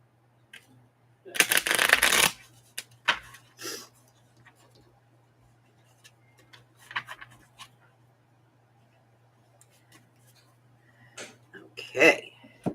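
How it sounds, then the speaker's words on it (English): Cards are shuffled during a game, a dense riffling burst near the start, then scattered softer shuffling and handling noises with quiet pauses between. "Our pictures have been shuffled."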